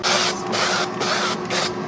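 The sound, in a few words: cooking oil spray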